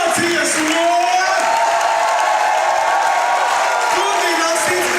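Audience in a Latvian tavern-style show erupts in applause and ovation, a dense steady wash of clapping with cheers and whoops running throughout, loud and close.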